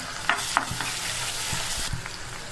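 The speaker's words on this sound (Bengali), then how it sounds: "আমার আদা রসুন ভাজা হয়ে গেছে" Ginger and garlic paste fries with onion and chili in a pan for a shrimp and peas curry. A steady, close sizzle is broken by several sharp scrapes and knocks of stirring.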